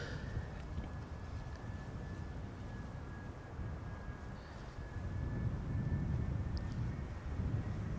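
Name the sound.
EasyJet Airbus A320 arriving at Schiphol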